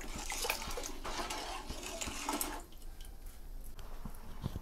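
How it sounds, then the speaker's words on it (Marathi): A large pot of potato curry made with two kilos of potatoes in salted water boils with a close, steady bubbling hiss. It is louder at first, then eases into quieter simmering with scattered pops. "फक्त आपल्याला भाजी उकळून घ्यायची आहे"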